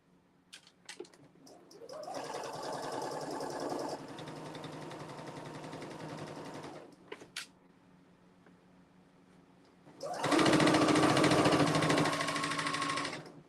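A sewing machine stitches a triangle quilt in two long bursts, a steady loud whir that stops for a few seconds and then starts again even louder.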